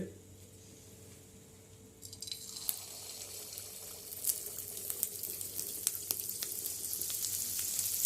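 Neyyappam frying in hot ghee: a steady, fairly quiet sizzle that grows brighter and busier partway through, with crackling pops over a low background hum and occasional voices.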